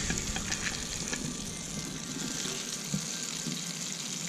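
Buttered smash burger patties sizzle on a hot griddle, a steady close frying hiss with faint crackles and scrapes running throughout, no voices.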